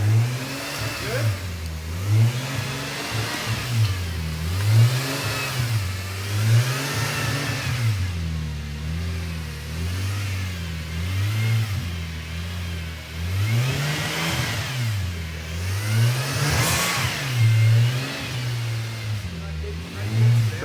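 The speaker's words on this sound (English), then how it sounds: "just a stab, rev up, down, up, down. It's to bleed the cooling system." A car engine is revved up and down over and over to bleed the cooling system, its rising and falling pitch cycling steadily and loudly for the whole stretch with no voices over it.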